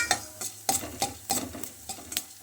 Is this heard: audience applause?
no